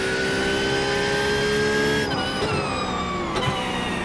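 A race car engine in the iRacing sim drafting a Porsche down the Camel Straight, a loud, close, high-pitched whine climbing steadily before a couple of quick gear-shift dips.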